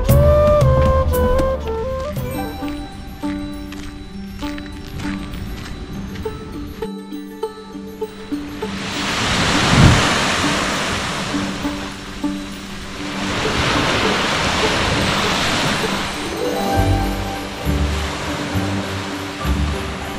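Ocean surf at a Terengganu beach washes in broad surges, swelling loudly around the middle and again later, with music-like tones underneath at the start.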